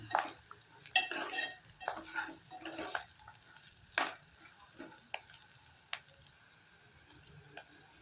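Cabbage curry seasoned with turmeric is stirred in a pan with a spoon, giving a run of close, irregular scraping strokes over a quiet sizzle that thin out into sparse clicks toward the end.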